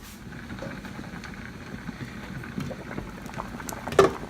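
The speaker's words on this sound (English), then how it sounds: "It is bubbling, bubbling, bubbling." Rutabaga and pumpkin porridge boils on high heat in a pot, giving soft continuous bubbling and popping, fairly quiet, with one sharper burst near the end.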